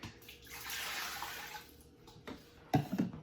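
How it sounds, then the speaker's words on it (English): Three cups of water poured into an Instant Pot for a water test, a steady splashing rush that fades, followed by a few sharp knocks near the end. "It's just 3 cups of water."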